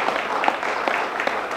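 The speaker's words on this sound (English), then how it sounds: "Please give him a round of applause." A brief, fairly loud burst of applause from people gathered at a Ward 4 community meeting, welcoming a guest from Brockton Community Access; scattered sharper claps stand out from the steady patter.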